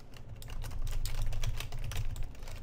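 Code is typed on a computer keyboard in a quick, steady patter of light key clicks at moderate volume, with no voices.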